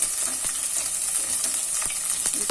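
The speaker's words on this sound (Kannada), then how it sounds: "ಇದಿಷ್ಟು ಒಗ್ಗರಣೆಯಲ್ಲಿ ಸ್ವಲ್ಪ ಫ್ರೈ ಆಗಲಿ." Chana dal sizzles in hot oil for a tempering, with green chillies in the pan, making a steady crackling fry with occasional sharper pops and faint stirring clicks throughout.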